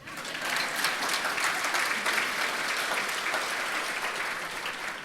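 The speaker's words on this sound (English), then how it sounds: "I'd like an applause for that." An audience applauds steadily at a State of the City address, a dense and sustained clapping that holds at an even level for several seconds with no voices over it.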